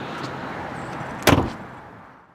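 A sharp mechanical latch pop from the hatch of a 1993 Nissan 300ZX Twin Turbo two-seater as it is released, a single brief clunk heard close, with a short rattle after it and then fading quiet.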